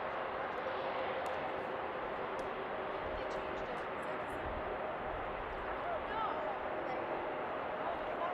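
A Delta jet on its takeoff roll at Seattle airport gives a continuous broad engine roar that holds steady at a distance, with a faint radio voice cutting in briefly near the end.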